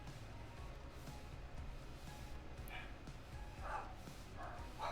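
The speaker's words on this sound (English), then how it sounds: "You might hear dogs in the background," Dogs barking in the background, faint and distant, a few scattered barks and yips under a quiet room hum.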